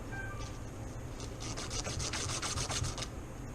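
Close, rhythmic rasping strokes of sandpaper rubbing against a graphite golf shaft, a steady back-and-forth scrape that grows more regular midway through.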